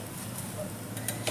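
Dhapate, a Maharashtrian flatbread also called thalipeeth, roasts on a hot pan with a soft, steady sizzle and faint scraping, heard close but low throughout.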